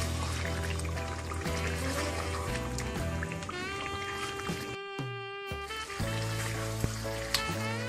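Mutton karahi gosht frying and sizzling in a karahi wok, steady loud crackle running throughout, with music playing over it and a brief dip midway.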